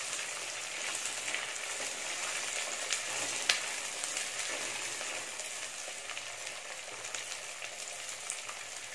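Onion and garlic sauté in hot oil with an even, continuous hissing sizzle and little variation, one brief tap near the middle.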